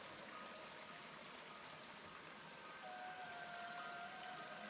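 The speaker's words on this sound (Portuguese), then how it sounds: "Quando você estiver contornando essa ponte, você escute o barulho da água" Steady flowing water beside a bridge on a trail, a constant moderate rush with a faint background tone, no voices.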